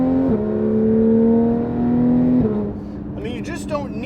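A Porsche 911 GT3 RS of the 991.1 generation revs its engine at about 4,500 rpm, a loud, sustained mechanical howl that holds steady and then drops away, with a faint, higher whir at the end.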